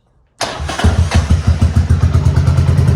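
A 2001 Buell Blast motorcycle cranks and fires up after a brief silence, then settles into a loud, close, steady thumping idle with a regular pulsing rhythm.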